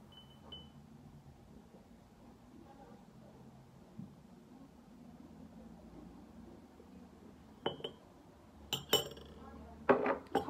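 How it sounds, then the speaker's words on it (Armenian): A spoon stirs a homemade hand sanitizer of medical alcohol and glycerin in a container. A long quiet stretch ends with a few sharp, close clinks and scrapes. "խառնում ենք,"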